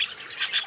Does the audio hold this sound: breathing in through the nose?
no